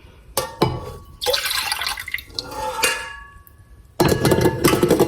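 Water runs and splashes while homemade butter is rinsed in a kitchen, with intermittent bursts of pouring and sloshing separated by brief quiet gaps and a strong stream at the end.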